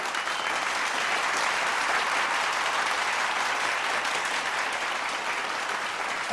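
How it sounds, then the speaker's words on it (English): An audience gives dense, sustained applause for Swami Vivekananda's speech, a thick, even roar of many hands clapping at once that holds steady without any voices. "a deafening applause of 2 minutes followed"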